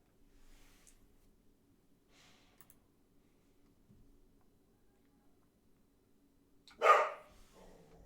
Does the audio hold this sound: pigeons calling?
no